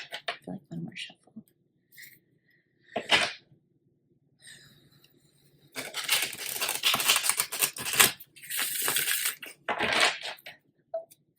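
Tarot cards are shuffled in a few sharp, papery bursts. Two brief snaps come first, then a longer rustling riffle and a final flurry, with quiet gaps in between.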